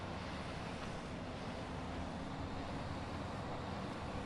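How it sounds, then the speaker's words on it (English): A tractor engine in Farming Simulator 19, running steadily with a loud, constant cooling fan roar and low engine drone, unbroken and alone without talk. "listen to the engine on this though. The fan on this thing is incredible."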